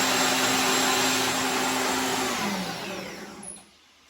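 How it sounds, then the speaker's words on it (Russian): A loud electric meat grinder motor whirs steadily, close by, then winds down and cuts off near the end. "мясорубка будет шуметь"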